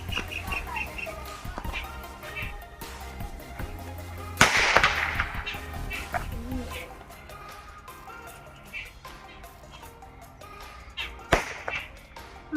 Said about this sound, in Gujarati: પહેલો ટેટો તો એક ખતરનાક ફૂટ્યો અને બીજો ટેટો આપણો હવાઈ ગયો છે